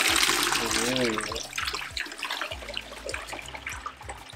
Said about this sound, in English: Let's drain the water from it and see how dirty it is.